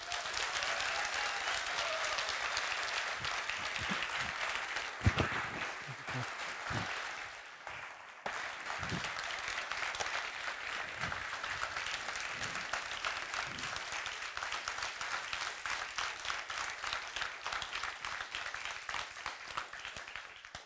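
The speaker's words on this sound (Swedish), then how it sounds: "Bara på det där varma applåden för att hälsa dig välkommen upp" Warm applause from a debate audience greets a speaker coming on stage, a loud sustained clapping that dips briefly midway and then swells again.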